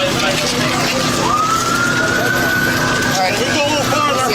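An ambulance siren wails during a state police escort as officers block traffic, a steady rising tone running over constant road noise and talk from the radio and people nearby.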